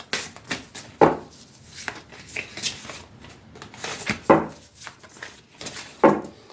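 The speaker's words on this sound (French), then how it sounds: "on va les mélanger un peu comme ça" Cartomancy cards being shuffled by hand in a quiet room, a few soft riffling bursts separated by pauses, close and moderately loud.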